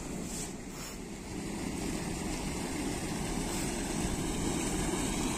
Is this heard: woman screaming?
no